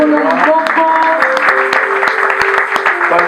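A church congregation claps together for the king, a dense, loud applause under which sustained musical tones, likely from an instrument, hold and shift, with no distinct cheering.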